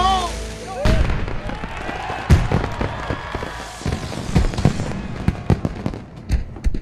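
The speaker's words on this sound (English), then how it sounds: "알렉스와 조시는 불꽃놀이하러 떠나고 KT와 렉시만 남아 행복한 축제의 밤을 즐깁니다." Festival-night fireworks pop and crackle in a dense, irregular string of sharp bursts, loud and close, with voices talking and murmuring underneath.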